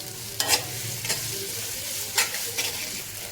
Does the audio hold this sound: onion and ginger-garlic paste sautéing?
yes